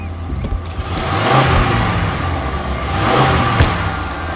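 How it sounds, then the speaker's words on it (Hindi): A car engine runs after starting, rumbling steadily with two swelling revs and a few knocks and clicks over the continuous drone. "किसी भी हालत में गाड़ी को बंद मत होने देना"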